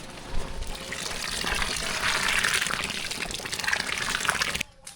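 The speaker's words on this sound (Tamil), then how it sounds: "அது கூட வந்து லாஸ்ட்டாக புளி தண்ணி சேர்த்துக்கலாம்" Tamarind water poured into a pot of sambar for sambar rice, a steady close gushing pour lasting several seconds before stopping abruptly.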